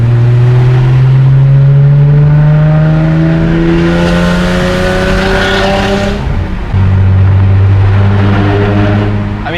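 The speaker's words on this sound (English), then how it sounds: "But if you give it a little bit of gas for a straight pipe, it's pretty loud." A Genesis Coupe 3.8 R Spec with a straight-pipe exhaust drones loudly while driving in traffic, its engine note rising steadily through the revs, easing briefly, then climbing again, close and continuous with no talk.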